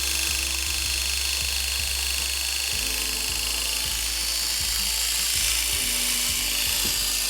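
Electric hair clipper fitted with an unoiled blade runs steadily close by, a harsh dry buzz with a rattling, ratchet-like clatter throughout, roughening slightly partway through.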